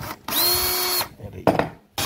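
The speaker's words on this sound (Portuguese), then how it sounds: "Você vai dar um furo agora aqui com uma broca de 7 milímetros" A power drill fitted with a 7 mm bit whirs for about a second at a steady pitch, close by, followed by a short second burst and a brief start.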